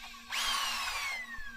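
Power drill boring into the steel body of a van during a repair, starting abruptly with a rising whine that holds steadily, then eases off near the end.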